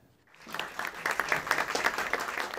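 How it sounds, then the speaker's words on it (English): Warm applause from an NFL Hall of Fame delegation greeting Pope Francis, starting from near silence and swelling into steady, dense clapping from a sizeable group that carries on throughout. "Pope Francis was greeted to a warm round of applause by members of the NFL's Hall of Fame delegation"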